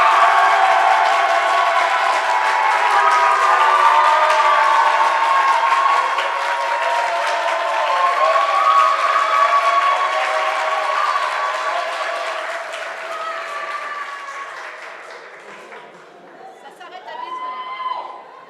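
Loud, sustained applause and cheering from an audience at an entrepreneurship awards event, a dense wash of clapping that fades near the end, with some crowd chatter mixed in.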